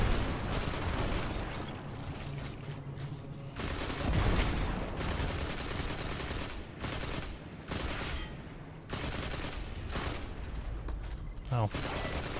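Rapid weapon fire at enemies in Destiny 2, with dense bursts of shots and a few short pauses, steady and fairly loud, while a player talks over it at times.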